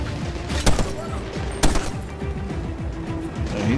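Rapid bursts of gunfire in the video game Medal of Honor Warfighter, a dense rattle of automatic fire with a couple of louder sharp shots standing out, steady and close throughout.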